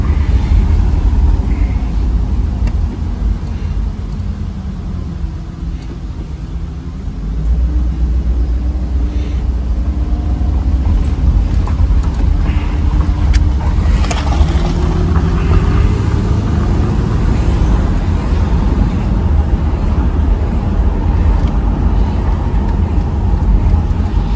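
A restored car's engine runs steadily with a deep, continuous rumble, rising slightly as it is revved. It is close and loud throughout, with no talking.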